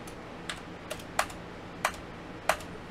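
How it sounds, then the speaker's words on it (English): Keys on a computer keyboard tapped as a word is typed, a few sparse, light clicks spaced unevenly over a faint steady room hiss. "So we'll type in love."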